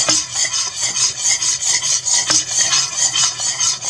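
A spoon or whisk stirring thickening béchamel sauce made of flour and milk in a pan, a steady rhythmic scraping and rubbing that repeats evenly throughout, close and alone.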